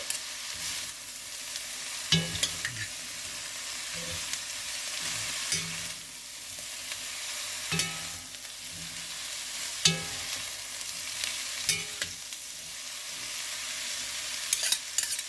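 Green cabbage with cumin and turmeric sizzles in a pan while a spoon stirs it, giving a continuous frying hiss broken by regular scraping strokes every couple of seconds.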